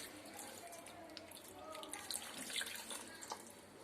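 Water poured into a cooking pot holding grated coconut, a faint splashing trickle with a few brief drips, close but quiet, with a voice speaking softly over it.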